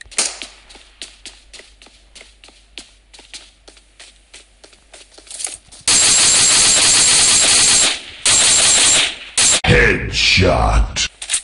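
Gunfire in PUBG Mobile on the Erangel map: a run of sharp, evenly spaced single shots cracks alone at first, then gives way to a loud, dense stretch of rapid fire and a final heavy burst.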